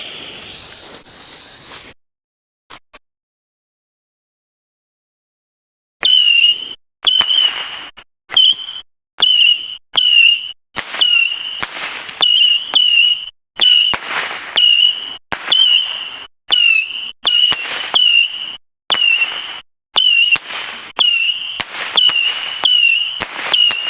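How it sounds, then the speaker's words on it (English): A Happy Birthday 25-shot Saturn missile battery firework being set off: after a pause, a rapid string of shrill whistling launches with sharp pops, coming in quick bursts that keep going to the end, loud and nearby. "we're going to do the Happy Birthday 25 shot Saturn missile battery"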